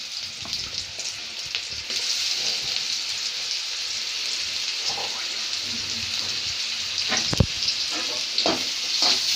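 Onions fry with half a teaspoon of garlic paste in a pan for Bengali dhundol bhaji, a loud, rain-like sizzle with stirring scrapes and one sharp knock near the end, close and without voices.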